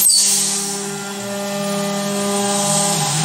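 A CNC machine cuts the tabs on an engine connecting rod, a steady close metallic whine with sustained tonal hum that holds evenly throughout, with no talk.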